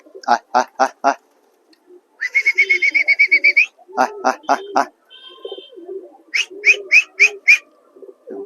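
Close by, Giribaz racing pigeons give repeated rhythmic bursts of cooing and fluttering, in clusters separated by short quiet gaps.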